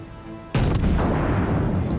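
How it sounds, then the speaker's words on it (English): A cruiser's main battery fires in World of Warships, a single loud, sudden boom that opens sharply and rolls into a long, rumbling tail after a brief quiet lead-in. "Fire another shot."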